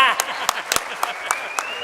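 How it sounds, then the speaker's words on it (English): Audience applause for Debbie Guthrie at the Riverside Sport Hall of Fame induction celebration, with scattered sharp claps over a steady wash of crowd noise and voices. "please join me in a round of applause for Debbie Guthrie"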